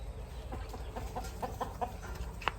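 Domestic village chickens cluck in a series of short, moderately close calls near a rural Thai house in the evening, with steady outdoor background noise and no talk.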